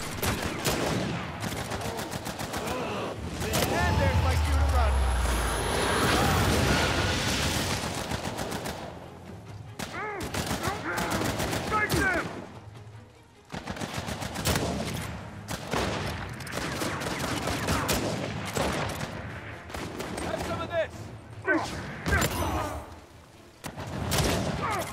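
Gunfire from a weapon in Uncharted 4 Survival Mode, loud and sustained volleys of rapid shots with booming impacts, broken by brief lulls and renewed bursts.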